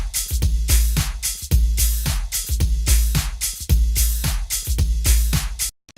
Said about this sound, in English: let me play you that loop dry